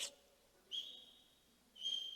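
Two loud, piercing whistle blasts, each held for a moment, separated by a short pause, with no talking around them.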